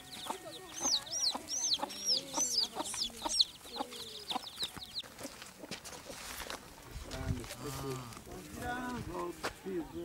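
A hen clucks protectively over her chicks, rapid chick peeps overhead and low clucks throughout, with people talking nearby and footsteps in the background.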